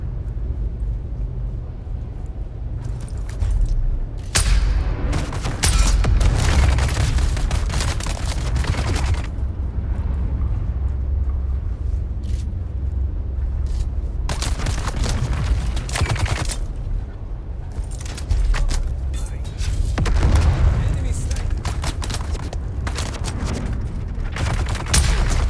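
Gunfire and explosions in a Dune Awakening firefight: sustained loud fusillades of shots with booming blasts, rolling in heavy bursts and brief lulls throughout, close and intense.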